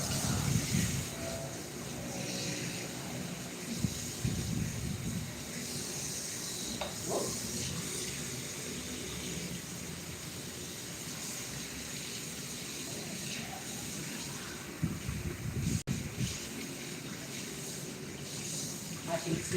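Raw chicken is rinsed under a running kitchen tap, giving a steady close hiss and splash of water for the whole stretch, with a few clunks and people talking quietly over it.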